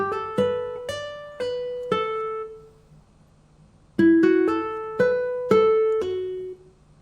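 A Spanish-style guitar from a software instrument plucks a repetitive melody, with about five ringing notes, a short pause, then about six more notes, each decaying cleanly and with no talking.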